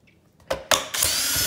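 Power drill fitted with a long T15 Torx bit, backing screws out of a Shark IQ robot vacuum cleaner; several short whirring bursts start and stop, then one longer sustained whine, loud and close with no talking.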